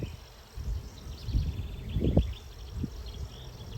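Honeybee swarm packed into a hive box, a low steady buzzing hum from many bees with rustling and bumps from the box being handled close by.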